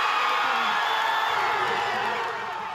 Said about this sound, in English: The crowd gathered well before kickoff at 3:30, and they were here for hours cheering on their Cats.